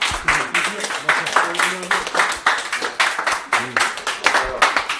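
Steady applause and scattered clapping throughout, with voices talking and cheering over it.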